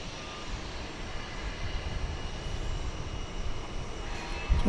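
A Frontier airliner at DFW Airport gives a steady, broad engine roar from a moderate distance that holds even throughout, swelling slightly toward the end, with no talk over it.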